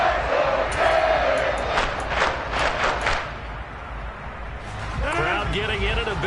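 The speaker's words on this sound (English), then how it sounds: "Crowd getting in it a bit already." Stadium crowd at an American football game building a roar before a third down, a dense, loud wash of shouting with rhythmic surges, under a commentator's voice.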